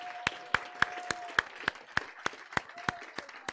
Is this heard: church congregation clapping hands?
yes